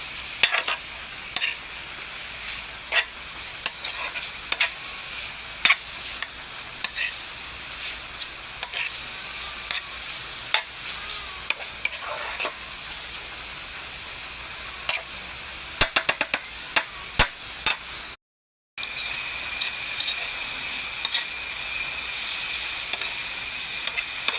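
Bitter gourd and egg stirred in a frying pan, a steady sizzle with frequent scraping clicks of the spatula throughout, a brief gap near the end before the frying resumes, with no talking.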